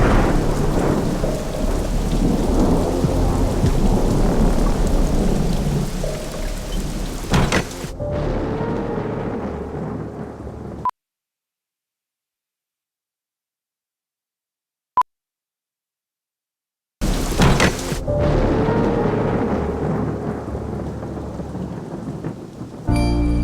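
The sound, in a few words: heavy rain and thunder outside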